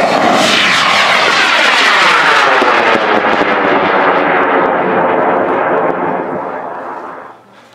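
A model rocket motor launches with a loud, sustained roaring rush that holds strong for several seconds and then fades off as the rocket climbs away.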